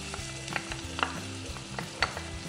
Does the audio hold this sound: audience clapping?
no